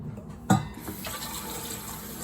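Water pours into the top chamber of a Berkey gravity water filter, a steady filling rush that holds for about two seconds after a brief knock at the start.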